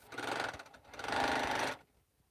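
Sewing machine running in two close, steady bursts of stitching with a short slowdown between them, then stopping abruptly into near silence.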